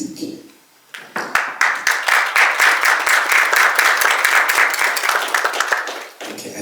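Audience at a Global African Business Dialogue keynote breaks into clapping after a pause, sharp individual claps building into a loud, fairly sparse round that fades out near the end.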